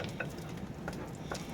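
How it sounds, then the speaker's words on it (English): Beans mixed with taco seasoning are stirred in a pan, faint low sizzle with a few light scraping ticks of the spoon, quiet and close. "we want to use the rest of that taco seasoning in our beans. So it can all be stirred up and yummy in there."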